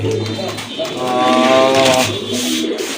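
Pigeons at a breeding farm cooing in soft, throaty warbles, close by, under a voice with other birds faintly in the background.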